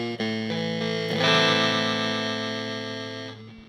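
Electric guitar through a Hotone Krush bitcrusher pedal on its radio setting: sustained, gritty, lo-fi chords with a harsh digital edge and a noticeable hiss underneath, swelling in brightness then slowly decaying alone.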